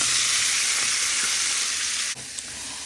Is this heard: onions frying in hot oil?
yes